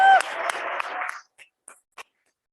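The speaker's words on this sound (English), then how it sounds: "let's have one last big round of applause for everyone" A short burst of crowd applause at an evening recognition ceremony on the Prescott campus, dense clapping for about a second before trailing off into a few scattered claps.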